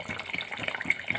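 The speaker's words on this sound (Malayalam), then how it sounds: "ഇതാ കുറച്ച് പച്ച വെളിച്ചെണ്ണയും കൂടി ലാസ്റ്റ് ഒന്ന് നനച്ചു കൊടുക്കുന്നുണ്ട്" Raw coconut oil is poured over a Kerala-style fish curry, giving a short, close, trickling liquid splash with small drips and gurgles, without any talking.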